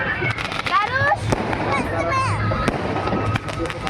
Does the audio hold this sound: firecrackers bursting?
yes